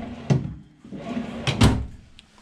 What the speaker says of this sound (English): And 2 ovens, and even 2 storage drawers under each oven